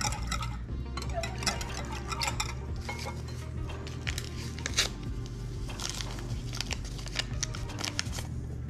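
A gelatin mixture is stirred in a bowl, giving soft repeated scraping and clinking strokes in an irregular rhythm over a low background hum.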